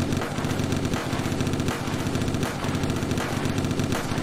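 Minigun firing in the toy-soldier video game Attack On Toys, a continuous, dense rattling roar of rapid shots that runs unbroken and loud throughout, with no speech.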